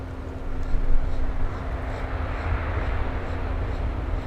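A British Airways airliner at Miami International Airport gives a steady broadband engine roar at moderate distance, holding fairly constant throughout with faint voices underneath.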